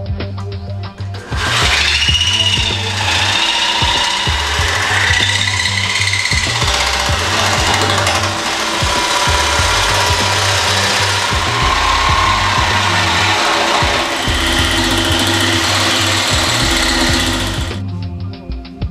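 A power saw cuts through a steel car chassis tube, loud and close, with a continuous harsh grinding whine. It runs steadily for about sixteen seconds, then stops abruptly.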